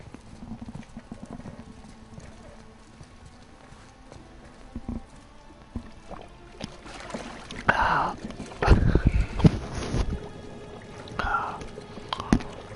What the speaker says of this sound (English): Now, hold his head under the water and don't let go.